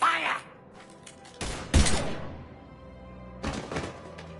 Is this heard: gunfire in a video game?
yes